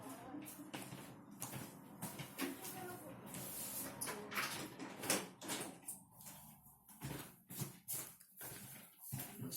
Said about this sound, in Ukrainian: Закрию двері.